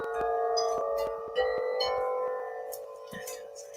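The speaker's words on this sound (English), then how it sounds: "now we get back to the chimes, cosmic chimes and chanting" Cosmic chimes ring in overlapping metallic tones, with repeated struck notes sustaining and layering at a moderate level while a voice speaks over them.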